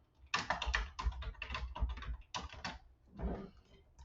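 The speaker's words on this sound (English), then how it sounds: "You'll type in your email address and the password that I gave you." Rapid typing on a keyboard while entering an email address and password, with bursts of crisp key clicks and short pauses between runs, close and clear with no talking.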